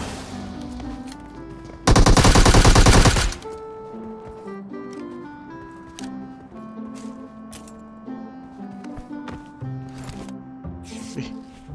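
An MK rifle fires in PUBG Mobile in a single loud, dense burst of rapid shots lasting just over a second, followed by quieter game sounds and music-like tones, with a player talking.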